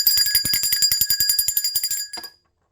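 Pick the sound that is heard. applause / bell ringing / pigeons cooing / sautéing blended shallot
bell ringing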